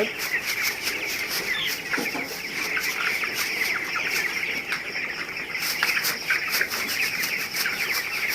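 Golden Feather chicks of about one kilogram, kept in a poultry shed, cluck steadily and flutter their wings at close range, with repeated short bursts of calls over a constant background din.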